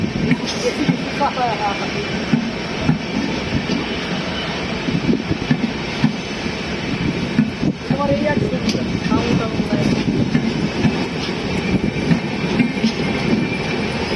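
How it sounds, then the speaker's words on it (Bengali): The Maitree Express, a Dhaka–Kolkata international passenger train, rumbles steadily along the rails at night, a loud continuous roar with faint wheel clatter and occasional squeals throughout. "মৈত্রী এক্সপ্রেস ট্রেনটি ঢাকা কলকাতার মধ্যে চলাচল করে"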